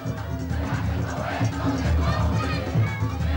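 A large, jubilant crowd roars and cheers in a dense, continuous wash of voices. The sound stays steady and loud with no single voice standing out.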